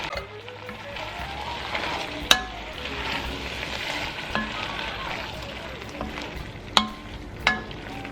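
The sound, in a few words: stirring tomato paste sizzling in a soup pot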